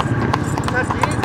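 Horse hooves clip-clop in a steady, fairly close rhythm at a Friday gathering in the Chhachh area, heard beneath continuous talking and crowd noise.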